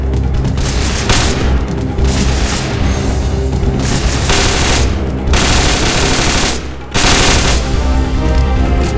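Loud gunfire in GTA San Andreas with a zombie mod: rapid bursts of automatic shots and heavy booming blasts hammer on almost continuously, with only short breaks between volleys.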